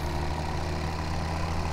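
A tractor engine idles steadily in Farming Simulator 17, a low, even, continuous rumble heard close and alone.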